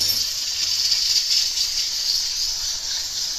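Cumin seeds sizzle in half a cup of hot oil in a pot for jeera rice, a steady close bright hiss with slight crackle that holds evenly throughout, no talking.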